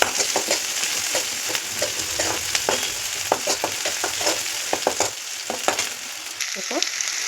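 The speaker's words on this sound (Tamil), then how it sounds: "இப்போ வெங்காயம் நல்லா கொஞ்சம் வெந்ததுக்கப்புறம் நம்ம வந்து கொஞ்சம் இஞ்சி பேஸ்ட் போட்டுக்கலாம்" Onions and ginger paste fry in a pan, a close, continuous sizzle with frequent sharp crackles and spatters and occasional scraping of a spoon stirring.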